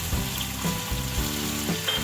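Masala (garam masala with tomato and onion) sizzles in a pan after a splash of water, a steady loud frying hiss with faint clinks of stirring.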